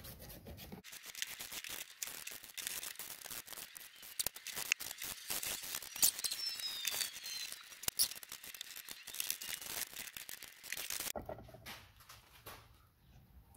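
Scissors or a file cutting fuzz off the edges of porch lattice, producing a steady run of close crinkling, rubbing and snipping scrapes for most of the stretch, then going quieter near the end.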